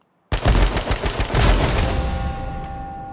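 Video game gunfire, a sudden loud burst of rapid automatic shots after a brief silence, rattling for over a second before trailing off into a ringing decay.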